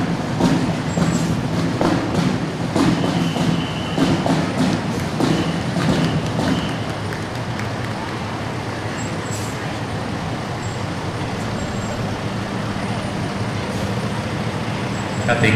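Fire department trucks roll past in a parade, a loud, heavy engine rumble that stays close and continuous, with voices talking over it.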